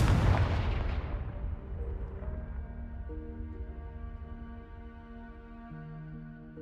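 A Confringo spell blast in the video game Hogwarts Legacy: a loud, close explosive boom at the start that decays into a long rumbling tail, with sustained musical tones rising underneath.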